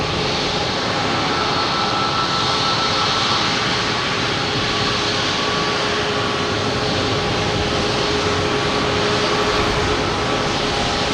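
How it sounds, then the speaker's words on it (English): An Alaska Airlines jet airliner arriving from Portland at Boston Logan gives off a continuous broadband engine roar with a faint steady whine. The sound is fairly loud and unbroken throughout, with no talking. "We got the Alaska Airlines here coming in from"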